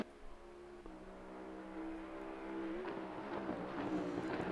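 Engine note of a 2020 Bentley GT3 race car at the Hungaroring in Assetto Corsa Competizione, a steady drone that climbs in pitch as the throttle opens on corner exit, loud and continuous with no talk.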